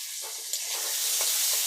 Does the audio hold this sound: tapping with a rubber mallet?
no